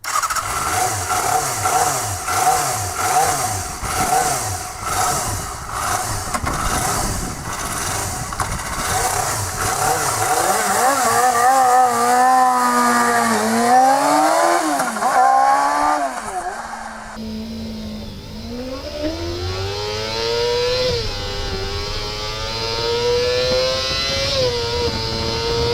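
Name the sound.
Yamaha FZR four-cylinder motorcycle engine revving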